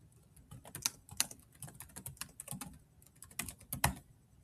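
Quick typing on a computer keyboard, a rapid irregular run of close, crisp key clicks with brief pauses, no voices.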